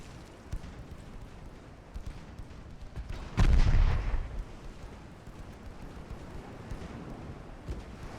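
Warship guns in a video game battle from the Spanish-American War: a single heavy artillery boom with a rumbling tail stands out against quieter, scattered distant shots and a continuous low background din.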